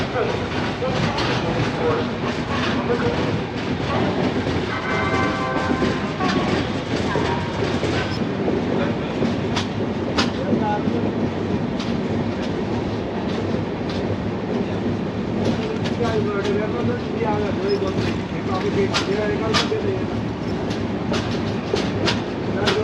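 The Yoga Express train (19031) rumbles steadily along the tracks from Ahmedabad toward Abu Road with rhythmic clattering of wheels, loud and close, with voices faintly audible underneath.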